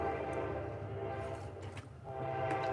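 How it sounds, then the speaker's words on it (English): Train going by nearby, a sustained horn-like tonal blare over a steady rumble of railcars, moderately loud and continuous throughout. "Oh, train going by."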